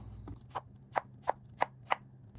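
Five crisp knife strikes through small cucumbers onto a cutting board, spaced roughly a third of a second apart, close and clear over a low background hum.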